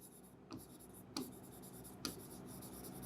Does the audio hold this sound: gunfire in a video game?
no